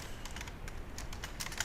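Quick, steady keystrokes on a computer keyboard while editing PHP login code, a close, continuous patter of clicks.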